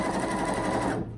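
A Janome 1050DC sewing machine runs a zigzag stitch through fabric, making a quick steady mechanical whir with fast needle rhythm for about a second before stopping.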